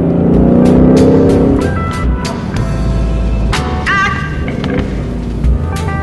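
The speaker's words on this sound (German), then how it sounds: "Der 5 Liter V8 ist einfach vom Sound her eine absolute Granate und natürlich Drehmoment ohne Ende." A 2016 Ford Mustang GT with a 5-litre V8 drives hard, the engine roaring loudly as it revs up, then dropping back through quick gear shifts with sharp crackles and pops, close and alone.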